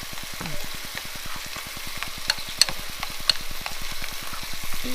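Pork chops fry in a pan with a steady crackling sizzle while ranch soup and milk are stirred into a creamy gravy nearby, rhythmic scraping strokes faintly audible under the continuous frying.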